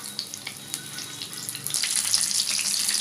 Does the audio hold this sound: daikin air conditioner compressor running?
no